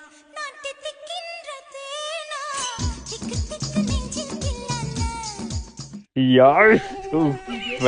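A high, wavering whine like a mosquito buzzing, apparently a voice imitating it in a comic rain-themed duet, rising and falling in pitch with music-like tones and a louder burst near the end.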